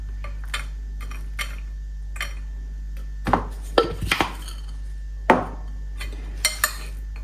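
Raisins being mixed into a salad in a bowl, a spoon scraping and clinking against the sides in irregular strokes, close and moderately loud, with a strong steady low hum underneath.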